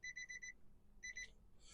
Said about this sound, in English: you get that little beep